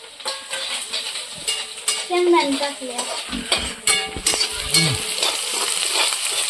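Chilli, curry leaves and onion frying for poha in a pan, a close, lively sizzle with busy stirring scrapes and metallic clinks of a spoon against the pan.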